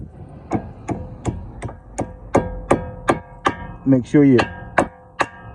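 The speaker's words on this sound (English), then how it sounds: "So I'll get me a nice little hammer." Sharp hammer taps on a metal clip during front brake replacement on a 2019 Cadillac CTS repeat at a steady pace, about a dozen strikes, with a brief spoken phrase near the end.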